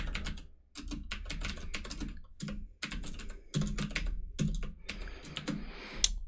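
Close, fairly loud keystrokes on a computer keyboard clatter in quick irregular bursts with short pauses between them, over a low steady background hum, as text is typed into a control panel editor.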